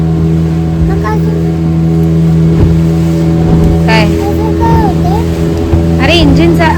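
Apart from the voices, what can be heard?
boat engine running at sea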